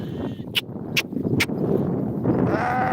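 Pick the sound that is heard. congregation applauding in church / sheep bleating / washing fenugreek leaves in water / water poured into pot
sheep bleating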